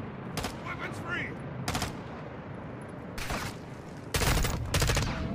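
Call of Duty Modern Warfare 2 gunfire comes as several sharp bursts of automatic fire, loud and close, spaced irregularly over a busy battle background with some voice chatter.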